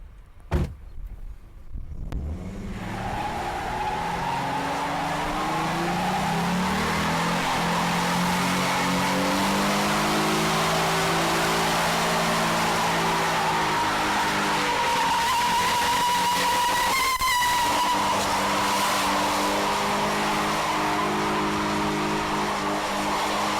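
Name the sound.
2011 Ford Mustang V6 doing a burnout, tires squealing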